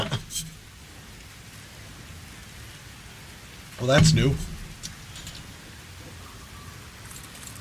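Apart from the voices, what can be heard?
rain in a video game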